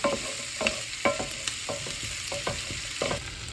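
Onions frying for Hungarian goulash sizzle steadily in a pan, with a spoon scraping and stirring in repeated strokes roughly every half second, close and alone with no talking.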